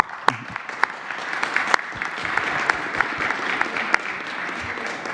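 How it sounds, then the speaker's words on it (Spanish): Applause from an audience at a presidential press conference, steady clapping with sharp individual claps throughout, sustained for several seconds without talk. "Un aplauso."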